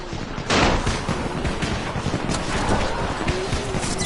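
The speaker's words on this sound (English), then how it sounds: "You still have some firecrackers, don't you? Just throw some into the crowd." Firecrackers go off in the video game Dying Light as a quick, crackling run of sharp pops. The bursts come over a dense, noisy background, with one louder blast near the start.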